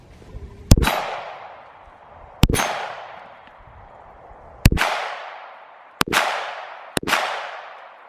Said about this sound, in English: we'll shoot a little bit downrange and